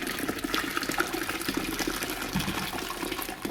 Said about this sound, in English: add another 15 liters of water,